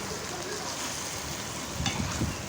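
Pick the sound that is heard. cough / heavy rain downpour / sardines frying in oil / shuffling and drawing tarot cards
sardines frying in oil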